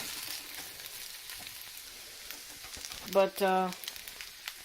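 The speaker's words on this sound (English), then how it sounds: "Just keep cooking this, stirring until you've incorporated all the oil as best you can." Meatless fried rice frying in oil while being stirred: a soft steady sizzle with scraping stir sounds throughout, briefly interrupted by a short spoken voice near the end.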